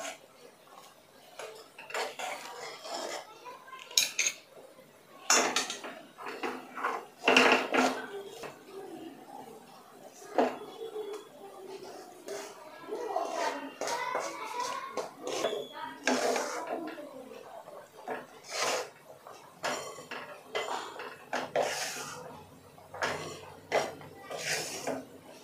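Proteiz and besan mixture stirred into sugar syrup for barfi, a spoon clinking and scraping against a metal pan in repeated bursts, with talk over it.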